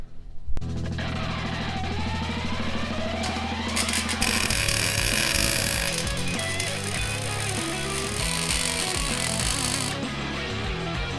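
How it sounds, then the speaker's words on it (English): Welding on the axle of a 1956 Chevy, a loud continuous crackling buzz that starts abruptly and grows harsher midway, running steadily to the end with no talk. "Now that we have the axle tacked at the right angle, it's time to full weld it and make it nice and strong."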